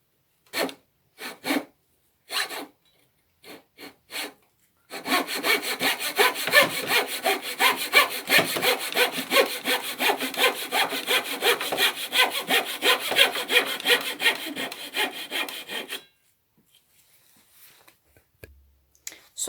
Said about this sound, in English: I'm just going to try it out with a coping saw.